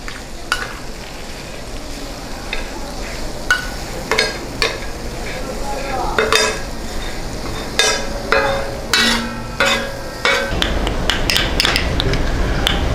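Chicken pieces for shawarma are chopped with a metal blade on a hot tawa griddle, with repeated irregular sharp clanks over a steady sizzle of frying, the hiss swelling louder toward the end.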